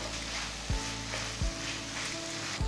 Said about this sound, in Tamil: ஸோ தக்காளி நல்லா வதங்கணும்.